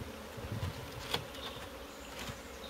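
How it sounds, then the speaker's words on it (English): Honey bees drone in a soft, continuous buzz as they are shaken into a hive, with a brief knock or thump partway through and no talking. "And then what I do is I shake the bees in."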